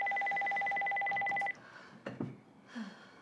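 A phone in the horror game Ghostline gives a loud steady electronic tone for about a second and a half, then cuts off, leaving quiet room noise and a few faint clicks and shuffles.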